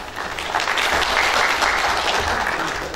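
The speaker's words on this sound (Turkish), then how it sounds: "Kuvvetli bir alkış alalım." Loud, lively applause from a crowd at a village folk minstrels' festival in Turkey, swelling after the first half second and staying strong and continuous, with a few faint voices underneath.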